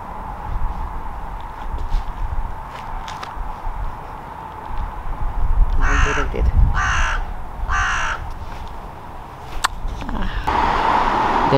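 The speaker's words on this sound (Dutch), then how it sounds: "Dit een vogel, zie je?" A crow caws outdoors in three loud, evenly spaced calls near the middle, over a steady background hum with faint passing sounds and occasional movement noise.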